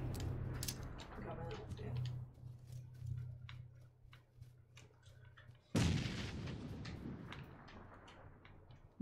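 Frag grenades go off in PUBG on Xbox One, heavy booming blasts with a big one about midway followed by a long rumbling tail, while low voices talk underneath.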